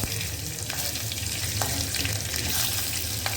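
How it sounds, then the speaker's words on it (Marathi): Fenugreek seeds, asafoetida and slit green chillies sizzling in hot oil for a Marathi tomato saar, a steady loud crackling fry with a few sharp pops, no talking. "चार दाणे मेथीचे टाकते मी थोडंसं हिंग दोन मिरच्या उभ्या कापलेल्या"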